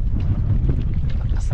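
Strong wind buffets the microphone on a fishing outing, a continuous low roaring rumble with gusty fluctuations throughout.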